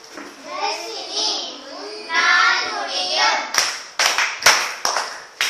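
Classroom applause breaking out for a student's question, several sharp claps near the end following a stretch of children talking and chattering.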